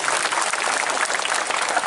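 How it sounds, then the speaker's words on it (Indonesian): Audience applause at a Balinese comedy bondres show, a dense steady wash of many hands clapping together for two seconds, loud and continuous with no voices over it. "Tepuk tangan buat nang Bali."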